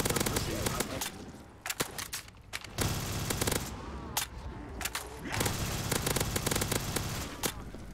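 Gunfire from a gun in Black Ops 3 custom zombies on the Ascension map rattles in dense, rapid bursts of shots, loud and continuous with short pauses, mixed with game noise and occasional talk.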